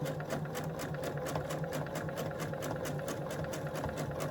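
A sewing machine stitches a Christmas tree wall hanging in a fast, steady mechanical chatter of rapid needle strokes, running continuously at close range.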